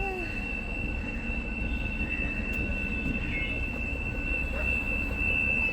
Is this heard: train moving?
yes